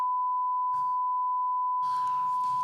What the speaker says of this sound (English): I'll have to beep it.